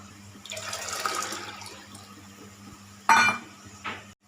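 Dissolved tamarind pours into a simmering fish curry in a soft, faint splashing trickle. A sharp clink of utensil on pot follows near the end.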